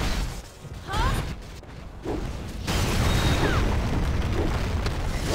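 Video-game defense tower explosion during a Lineage 2 Revolution fortress siege battle: booming bursts and crashes within dense, continuous battle noise, with a voice speaking over parts of it.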